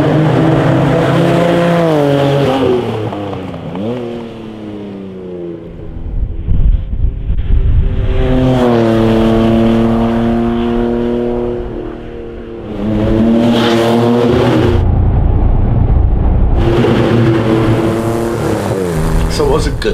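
Rebuilt Porsche 911 with a reworked engine of about 250 horsepower revs and pulls through gears, the engine note rising and falling in loud sweeps with wind noise.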